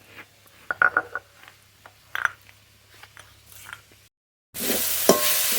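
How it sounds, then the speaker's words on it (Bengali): Chopped banana flower is stirred and fried in a pan, with scattered soft clicks and scrapes of the spatula over quiet sizzling, followed by a brief silence and then a louder, steady burst of noise. "মোচা নেড়ে নেড়ে বেশ ভাজা ভাজা করে নিয়েছি"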